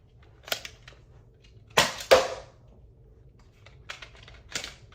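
A Zuru X-Shot Kickback blaster fires a Dodu 3/4 length dart, producing a few sharp, close clicks and snaps, with a louder pair of cracks in the middle, against a quiet background.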